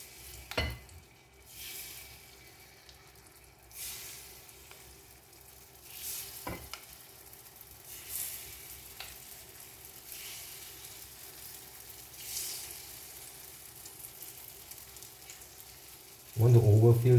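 Takoyaki batter hitting a hot oiled takoyaki pan with a steady broadband sizzle that holds throughout, a few sharp clicks of utensils early on and a louder burst of contact noise near the end.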